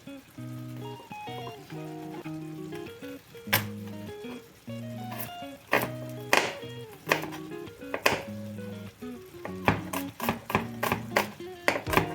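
A kitchen knife finely chops garlic cloves in quick, uneven bursts of crisp taps that speed up toward the end, heard under a looping melodic backing track.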